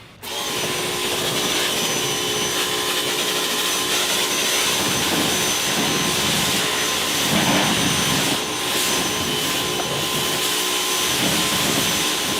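A Ryobi pressure washer shoots foam in a steady, loud, broadband hiss and roar that runs unbroken for the whole stretch, with small surges in the spray.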